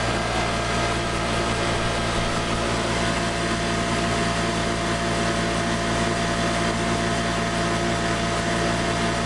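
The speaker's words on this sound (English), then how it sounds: "we have like 75 volts, and the motor's running" A modified DC motor running at about 75 volts and 3,400 RPM turns the crankshaft of a 10 kW generator, giving a loud, constant whirring drone with a steady hum and no change in pitch.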